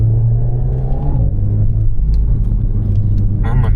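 Renault Megane RS Trophy hot hatch exhaust rumbling loud and close, with a few sharp crackling pops near the end.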